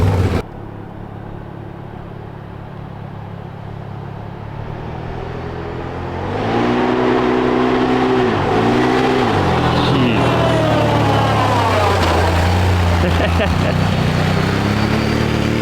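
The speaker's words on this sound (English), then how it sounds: "So right now, Seth's about to take her for a spin and see how this thing feels." A 2018 Can-Am trail quad ATV engine runs nearby, a low steady idle that swells into a louder, rising and dipping rev as the ride begins.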